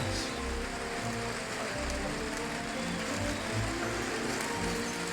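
Steady rain falling outdoors beside an outdoor cooking area, a dense continuous hiss with low rumble throughout, fairly loud and unbroken, with no voices.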